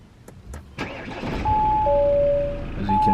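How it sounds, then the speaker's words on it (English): An Audi A4 is started with the push button: a sharp crank near the start, then the engine catches and settles into a steady, close running hum. "It's a button start as well, so foot on the brake,"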